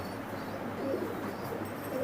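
High-flying pigeons of an Oman bloodline coo softly and steadily over a constant broadband background hum.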